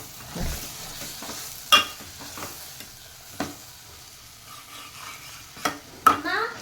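Tomato saaru (tomato rasam) with coriander leaves is stirred in a pot, a few scattered spoon scrapes and clinks over a faint simmer, quiet and close with no voices.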